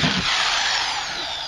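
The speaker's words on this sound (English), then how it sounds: "now we have a power drill here, and we have this drill bit, and I'm first going to drill" A power drill fitted with a drill bit bores a hole, producing a loud, close, continuous whining buzz that fades slightly toward the end.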